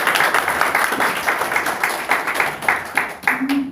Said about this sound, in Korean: 우리 정봉적 회장님께 뜨거운 박수부터 다시 한번